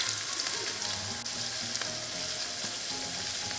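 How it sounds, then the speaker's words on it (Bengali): Sliced onions fry in hot oil left over from frying crabs, giving a continuous bright sizzle, close and even, with a couple of faint clicks and no talking. "পেঁয়াজটাকে ব্রাউন হওয়া পর্যন্ত ফ্রাই করবো।"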